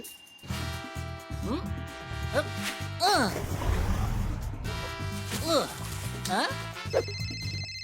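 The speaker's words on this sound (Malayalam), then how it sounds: "സാർ, മിസ്റ്റർ ലീ അങ്ങേ ഫോണിൽ വിളിക്കുന്നു." A telephone rings in repeated bursts while people talk over it, with other movement and background noise in between.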